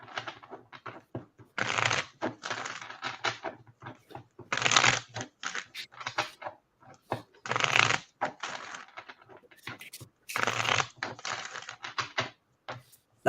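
Divination cards are riffle-shuffled repeatedly, several crisp fluttering bursts separated by softer taps and bridging clatter, close and fairly quiet.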